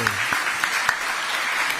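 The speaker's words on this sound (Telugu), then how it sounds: "అందరు చప్పట్లు కొట్టండి మరి." A short burst of audience clapping at a gathering honouring a high-scoring student, dense and steady for about two seconds with a few sharper claps standing out.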